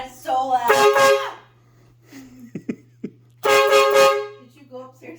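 A homemade train horn powered by a DeWalt tool battery blasts indoors in a house, two loud sustained honks separated by a short gap, with a steady low hum throughout.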